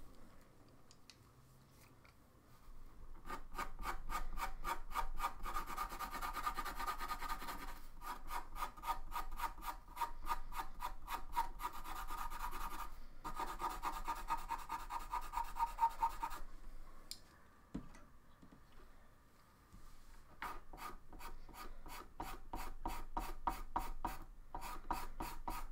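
Stabilo CarbOthello and Faber-Castell Pitt pastel pencils scratch across Pastel Matte paper in long runs of rapid, even back-and-forth strokes, close and steady, broken by a few brief pauses.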